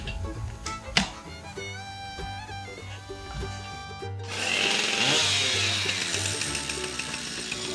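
A chainsaw with its clutch housing removed is cranked and starts running, first a rough tonal buzz with a knock, then a louder, denser idle that holds steady and close.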